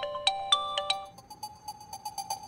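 A mobile phone ringtone for an incoming call sounds alone. It starts as a run of bright, stacked electronic tones in quick, evenly spaced bursts. A steadier repeating melodic chime follows, fairly close and moderately loud.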